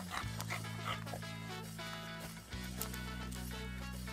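A recovering rescue dog pants and snuffles close by, quick breathy huffs over a steady background hum, with a few small whimpering yips mixed in.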